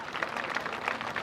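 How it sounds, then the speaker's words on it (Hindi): An audience at a social-justice gathering in Auraiya, Uttar Pradesh, gives a steady, dense wash of clapping for student dancers, moderately loud and sustained without breaks or clear individual claps. "उनके लिए एक जोरदार तालियां बजाइए"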